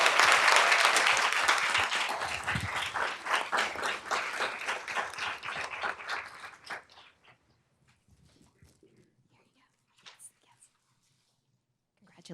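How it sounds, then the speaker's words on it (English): A school board meeting audience applauds student artists, dense sustained clapping that fills the room for about six seconds before fading out, followed by faint scattered sounds and distant voices. "Give them another round of applause."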